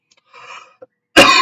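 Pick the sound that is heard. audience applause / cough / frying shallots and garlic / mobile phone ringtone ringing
cough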